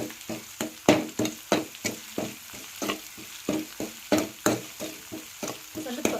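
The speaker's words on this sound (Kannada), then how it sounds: "ಒಂದು ಸೆಕೆಂಡ್ ಅಷ್ಟೇ ಇದನ್ನ ಫ್ರೈ ಮಾಡಬೇಕು" Carrot chutney ingredients with a spoonful of salt are fried in a pan, heard as a rapid steady run of close stirring and tossing knocks over a light sizzle, about twenty strokes in a regular rhythm.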